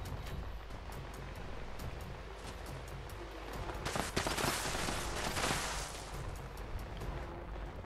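Gunfire in Fallout 76, with rapid sharp shots pulsing throughout and a denser, louder burst of fire in the middle, set against a steady rushing background and no speech.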